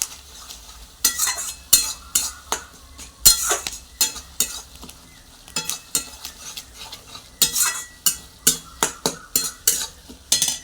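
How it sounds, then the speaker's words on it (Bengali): Khichuri with spices and salt being stirred in a pot: a spoon scrapes and knocks against the metal in quick irregular strokes, with a soft sizzle underneath and no voices. "এগুলো দিয়ে আবার একবার ভালো করে নেড়ে নিতে হবে"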